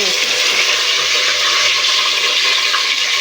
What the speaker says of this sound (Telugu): ఇవన్నీ మంచిగా వేగే విధంగా మంచిగా కలుపుకున్నాము.